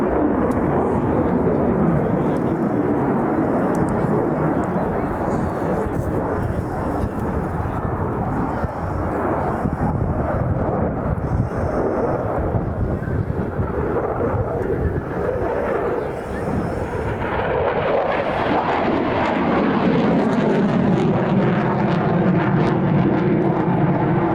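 A military aircraft, an F-16, passing at the Royal International Air Tattoo air show: a loud, continuous broadband jet roar with wind buffeting that shifts in pitch toward the end as the plane moves past.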